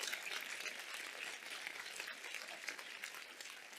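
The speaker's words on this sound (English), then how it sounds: "Let's give her a round of applause" Church audience applauding a singer, a soft, distant patter of many hands clapping, steady and faint, gradually thinning toward the end, with no talk.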